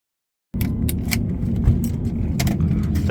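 After a brief silence, a BMW on a used car lot fires up with its key, and the engine settles into a steady close idle while keys jangle and click against it.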